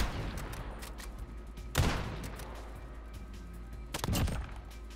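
Pistol fire in Modern Warfare gameplay, with two distinct sharp shot bursts about two seconds apart, moderately loud over faint background game noise.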